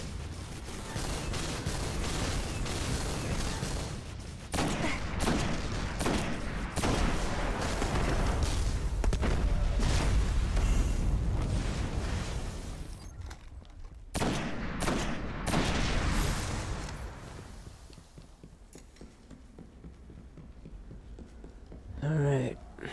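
Dense rapid gunfire and bullet impacts in the shooter Destiny, sustained loud volleys with brief pauses, under frequent talking.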